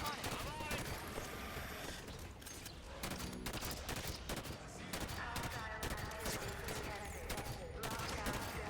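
Rapid, dense gunfire from Halo 5: Guardians fills the whole stretch, bursts of automatic fire and shots overlapping in a loud, continuous battle mix with game effects, while players talk over it.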